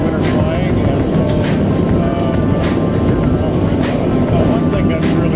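A Zenair CH 701 light airplane on skis flies over winter Alaska, its engine and propeller making a loud, steady cabin drone that continues without a break.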